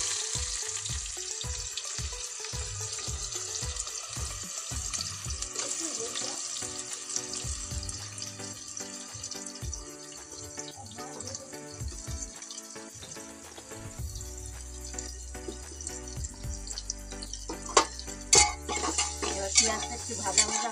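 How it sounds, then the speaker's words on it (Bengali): Chopped onions fry in a pan for a chicken and radish curry, beginning with a run of quick rhythmic knocks and stirring clatter before settling into a steady, close sizzle with occasional scrapes. "পেঁয়াজটা একটু ভাজা ভাজা হবে"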